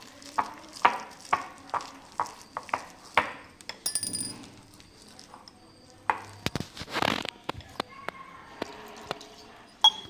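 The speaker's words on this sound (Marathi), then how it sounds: "तर आता आपण हळूहळू हे पीठ व्यवस्थित मिक्स करून घेऊया" Maida flour batter for jalebi being mixed in a bowl with a spoon, giving a series of soft rhythmic scraping strokes, then scattered clinks and rustles, close and fairly quiet.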